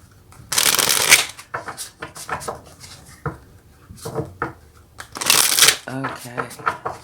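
Tarot cards are shuffled by hand to draw a clarifying card, two loud bursts of riffling and rustling with softer card handling and taps between them, close up, as a voice talks quietly.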